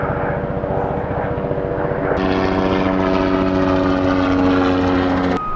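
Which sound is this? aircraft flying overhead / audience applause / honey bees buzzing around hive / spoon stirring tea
aircraft flying overhead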